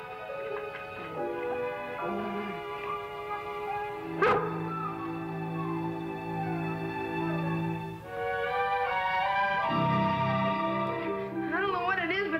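A dog barks in short sharp bursts mixed with whimpers and yips, heard close under orchestral music with a sudden loud hit partway through.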